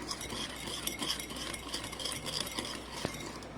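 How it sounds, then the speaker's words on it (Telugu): Spoon stirring milk and sugar in a bowl for homemade wheat-flour biscuits, a faint, steady scraping and swirling with small clinks against the dish, no voices. "అది కరిగేటట్టు కలుపుకోవాలి, చక్కెర కరిగేటట్టు."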